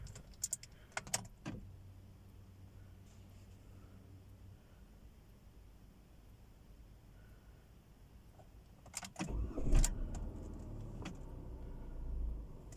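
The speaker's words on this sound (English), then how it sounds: "So now I will start the car." A 2017 Dodge Neon starts after clicks and key rattles inside the cabin, then the engine catches with a brief crank and a low rumble that builds and settles into a steady idle, fairly faint and close, with no talking.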